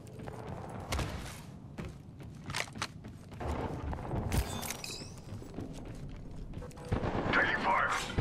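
Video game gunfire in a shooter match: scattered sharp shots and bursts, some near and loud, others muffled, with thuds and movement between them.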